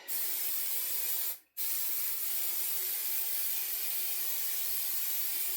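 3M spray adhesive hisses from its nozzle in a long, loud, steady blast, briefly cut off once before spraying continues, close up while fitting a headliner in a '91 Dodge Grand Caravan.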